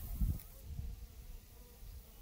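Bees buzz faintly nearby, a soft low hum with a brief louder pass as one flies close.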